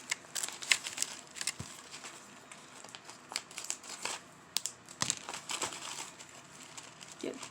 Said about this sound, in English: If I can get the bag open.